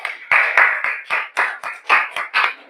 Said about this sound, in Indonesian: Ayo kita beri tepuk tangan dulu.